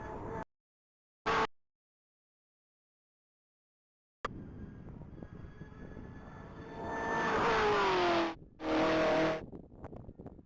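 At a top-speed mile racing event, a 2023 Chevrolet Camaro with a 6.2-liter supercharged engine roars past, its engine note building into a loud rising whine and rushing surge before briefly cutting out and returning, heard from trackside.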